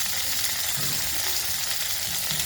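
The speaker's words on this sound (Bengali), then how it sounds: "বিনসটা আমি বেশি ভাজবো না।" Beans frying in a pan with ground cumin and turmeric, giving a continuous, loud, dense sizzle that holds steady throughout without any talking.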